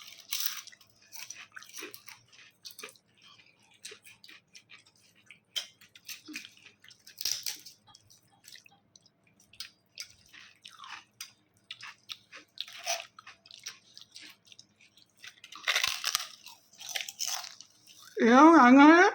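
A person eats rice quickly, with a run of short, close biting, crunching and wet chewing sounds in an irregular rhythm, ending in a louder burst of noise.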